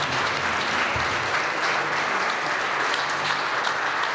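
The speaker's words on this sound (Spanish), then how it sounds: "Den un aplauso gigante al Señor" A church congregation breaking into sustained applause, a dense wash of many hands clapping at steady volume throughout, with faint voices mixed in.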